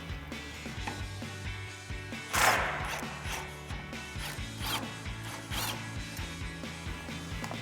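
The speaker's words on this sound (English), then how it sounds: "you will need a 21 mil socket and swivel adapter on your impact to get that top mounting nut off" A 21 mm socket on a swivel adapter driven by an impact wrench loosens the top mounting nut of a 2019-2024 Chevrolet Silverado 1500 rear bumper, giving a few sharp rattling bursts over steady mechanical clatter in a garage.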